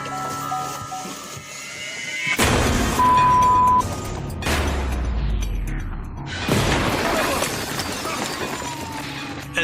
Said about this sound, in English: This was a massive explosion.